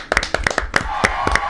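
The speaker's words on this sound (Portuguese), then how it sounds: "Gente, uma salva de palmas para o Paulo Gustavo." Audience applause for comedian Paulo Gustavo: a short burst of scattered, close hand claps in an uneven rhythm, with voices calling out among them.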